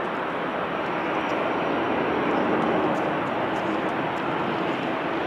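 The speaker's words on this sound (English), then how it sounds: "it's United Airlines 787-9 to San Francisco" United Airlines Boeing 787-9 airliner bound for San Francisco, its engines giving a steady, loud broadband roar that holds evenly throughout without a break.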